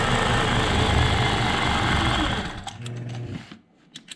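A sewing machine quilting a memory quilt across a large open area runs in a fast, steady whir close by, then slows and stops near the end.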